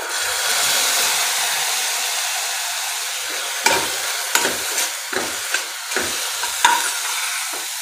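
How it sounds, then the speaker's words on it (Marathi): Vegetables with dark soy and red chilli sauce are being stirred in a pan for manchow soup, a steady frying hiss under repeated sharp scrapes and clinks of a spoon against the pan. "याला मिक्स करून घेऊया"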